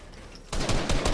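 Rapid video game gunfire starts abruptly after a quiet lead-in and keeps up as a loud, close string of shots.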